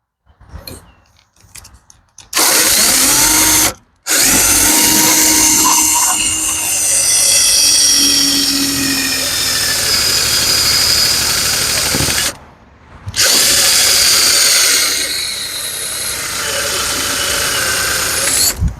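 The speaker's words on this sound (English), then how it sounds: "So I'm just going to take my drill and I'm going to drill a hole." A cordless drill whines loudly in long runs, its pitch shifting as it bites into material, with two short pauses where the motor stops.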